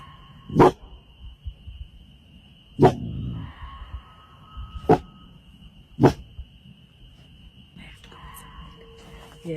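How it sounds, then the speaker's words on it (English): A dog barks out in the woods in four sharp, widely spaced single barks, moderately close, between stretches of quiet with faint rustling and soft background murmuring. "Her dog suddenly starts barking as something horrifying is captured on camera."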